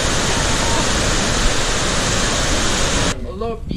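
Loud, steady rush of a mountain stream filling the first three seconds, broadband and close, then cutting off abruptly as a voice begins speaking near the end.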